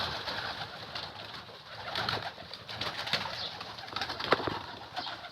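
Pigeons cooing in soft, repeated low calls, faint and somewhat distant, with light rustling and outdoor background noise and no talking.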